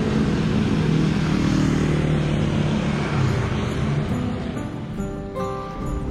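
A motorcycle-powered odong-odong kiddie ride idles and rumbles in a town square, its steady engine drone loud and close before it eases off, with other traffic noise around it.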